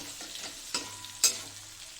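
Potatoes dropped into a hot frying pan in a home kitchen for a greens dish, giving a brief soft sizzle with two quick clattering stirs.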